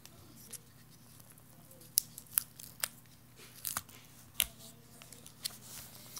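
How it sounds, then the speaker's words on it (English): Foil tape is peeled off a Seagate Backup Plus external hard drive enclosure in a quiet room, giving a few sharp crackling rips and ticks spaced irregularly over faint background hum. "Pull off this wonderful foil tape because you don't need it"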